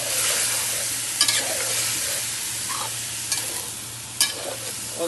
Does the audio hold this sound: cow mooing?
no